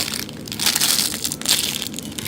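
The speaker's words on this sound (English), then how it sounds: "I really like to squish it in packaging" A squishy foam toy is squeezed inside crinkly plastic packaging, giving a close, continuous crackling and crunching over a couple of seconds.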